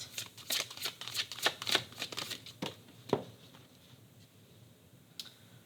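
A tarot deck shuffled by hand up close, producing a run of quick crisp papery riffles and taps for a few seconds, then a single sharp snap and near silence with one last faint tap.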